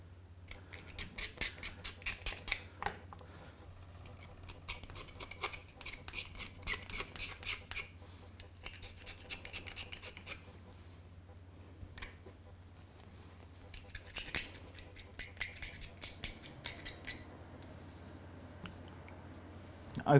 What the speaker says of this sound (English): we go back over and we clean these bones up. So literally scraping each individual bone